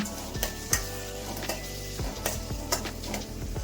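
Onion, curry leaves and green chilies fry in hot oil for a Bangalore-style brinjal curry, a close steady sizzle punctuated by sharp spatula scrapes and stirring taps against the pan.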